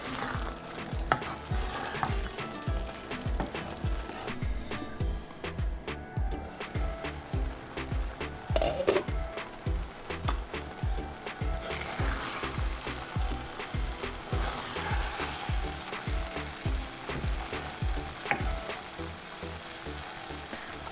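Bottle gourd, chana dal and tomatoes cooking in a pan for a lauki chana dal sabzi, with a steady sizzle and rhythmic scraping of a spoon stirring again and again close up, no voices.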